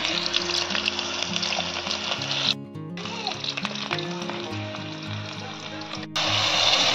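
Onions frying in very hot oil while a pamphlet fish curry is cooked, giving a loud, steady sizzle that cuts out briefly twice, with tonal hum and clatter underneath.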